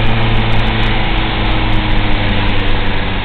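A car engine running at about 3,500 RPM in second gear makes a loud, steady droning hum with strong low tones, holding an even level for the whole stretch.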